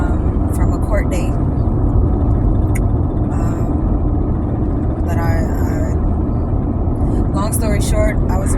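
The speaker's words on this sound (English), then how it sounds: "driving on my way back home" A car driving on the road, heard as a steady loud low rumble of road and engine noise from inside, with a person talking over it throughout.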